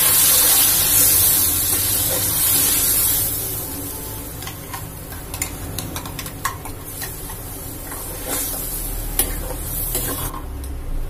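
A paste of garlic, onion, green chili, curry leaves and tomato fries in a pan for paneer biryani, giving a steady close sizzle with occasional stirring scrapes and clicks.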